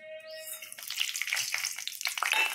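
Dry and green chillies hitting hot mustard oil in a pan, with a tonal beep at the start giving way to a steady, fairly loud crackling sizzle that swells and pops for the rest of the moment.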